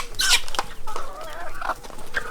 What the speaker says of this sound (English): Why is this rooster hanging out over here?